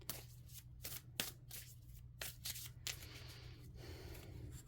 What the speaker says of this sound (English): Let's go ahead and pull another card for you,